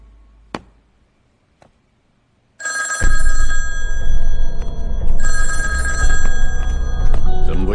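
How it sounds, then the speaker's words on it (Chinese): An old-style telephone bell rings loudly in a steady, continuous jangle, starting abruptly after a couple of faint knocks in a quiet room, with a brief break in the middle. "接电话"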